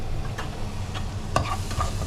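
Malvani masala roasts in a pan with a soft sizzle and a few sharp spoon scrapes and taps, close and steady.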